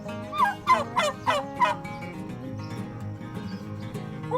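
Farm turkeys gobble in a quick run of four or five loud, rattling calls, then trail off into softer, scattered clucks and calls close by.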